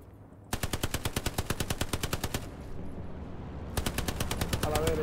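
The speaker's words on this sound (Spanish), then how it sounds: "Me disparan." Rapid automatic gunfire in Hell Let Loose, a World War II shooter: a long, loud burst of evenly spaced shots, a short pause, then a second burst near the end.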